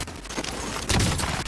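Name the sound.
weapon hipfire gunshots in the video game Warzone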